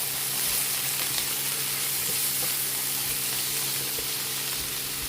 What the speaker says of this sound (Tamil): இதையும் சேர்த்து வதக்கிட்டு